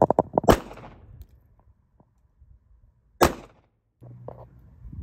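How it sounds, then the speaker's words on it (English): Two sharp, loud live-round handgun shots about three seconds apart, each with a brief echoing tail, fired indoors at a target during a Mantis X trainer session, with faint handling noise between them and a low hum afterward. "So let's try it with live rounds now."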